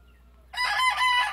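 A White Hackle gamefowl rooster lets out a single loud, close crow, a drawn-out cock-a-doodle-doo rising from a quiet background with no talk.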